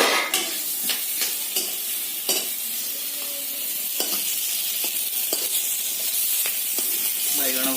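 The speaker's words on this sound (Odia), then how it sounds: "ବାଇଗଣ ଭଜା ଚାଲିଛି।" Brinjal slices fry in a pan in a home kitchen, giving a loud constant sizzle close up, broken by repeated clinks and scrapes of a spatula against the pan, with brief talk now and then.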